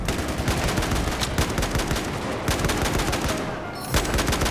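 Rapid gunfire in the video game Battlefield 4, dense loud bursts of automatic shots crackling almost continuously, briefly dropping then resuming near the end.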